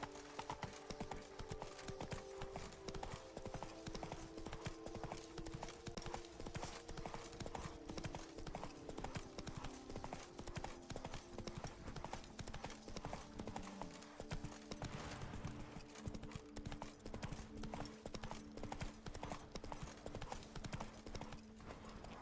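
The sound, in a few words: horse Roach trotting, from the video game The Witcher 3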